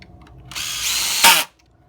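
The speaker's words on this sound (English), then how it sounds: "Just put my drill in here." A cordless power drill spins up during a hoverboard repair, a loud close whine lasting about a second with a sharp surge at the end before cutting off into quiet.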